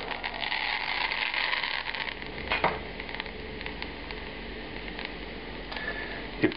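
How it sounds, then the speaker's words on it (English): Sage leaves deep-fry in a pot of hot oil, a steady close sizzle with crackling bursts and a few sharper pops, no talk. "I'm going to deep fry a few sage leaves"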